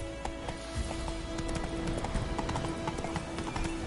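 Hooves of Roach, the horse in The Witcher 3, pound out a quick, close clip-clop at a running pace, the rhythm steady and prominent over a low game backdrop, with no voices.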